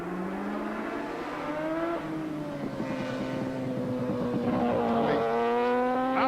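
Racing motorcycles at Cadwell Park during the 1988 Shell Oils King of Cadwell, rounding Hall Bends toward the hairpin: a loud, sustained engine howl with rising and falling pitch as the bikes pass close and accelerate.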